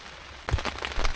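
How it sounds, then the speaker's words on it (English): Heavy rain drums on a campsite shelter, a steady hiss that suddenly swells into louder, irregular patters and splatters close by, with no voices. "the rain's a bit too hard at me"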